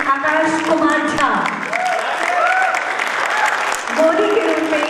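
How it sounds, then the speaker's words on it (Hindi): Audience applause at a theatre festival performance in Ranchi, greeting actress Divyani, runs steadily under a male announcer's voice that carries on throughout. "जोरदार तालियां दिव्यानी के लिए"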